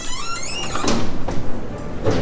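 Doors open on the port side of the Diamond Princess cruise ship, a steady rush of air and indoor hum with a couple of soft thumps and a brief whine, close and fairly loud, with no talking.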